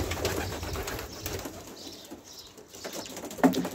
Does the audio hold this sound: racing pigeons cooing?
yes